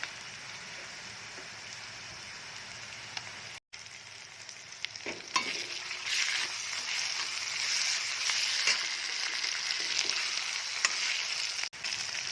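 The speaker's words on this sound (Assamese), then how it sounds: "ৰঙা এতিয়া মই আদা নহৰু পেষ্টখিনি দি দিম।" Ginger-garlic paste fries in a hot pan for chicken with onion and turmeric, giving a steady, loud sizzle with scraping stirs throughout and a brief drop near the start.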